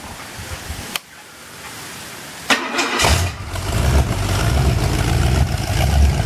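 Ford 351 Windsor V8 in an XW Falcon cranks and fires at close range, settling into a loud, rough steady idle that runs on to the end.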